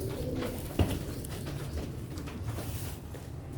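Sialkoti black-faced pigeons coo softly nearby, their low rolling calls repeating over a faint background hum, with one brief sharper knock early on.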